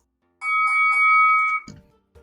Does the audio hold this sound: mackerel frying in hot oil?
no